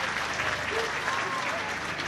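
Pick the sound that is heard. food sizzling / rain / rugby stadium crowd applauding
rugby stadium crowd applauding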